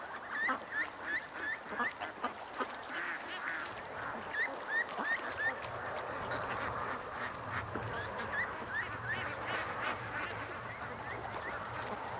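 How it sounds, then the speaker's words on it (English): A flock of Canada geese gathered by the water gives repeated short honking calls in uneven bursts, some near and some farther off, over a steady outdoor background. "Oh, and there's our Canada geese actually."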